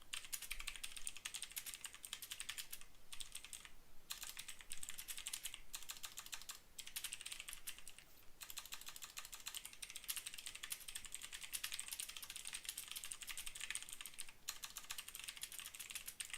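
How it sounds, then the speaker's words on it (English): Steady clattering keystrokes on a computer keyboard, continuous and fairly quiet, with brief pauses between runs of typing and no voices. "how do I type this?"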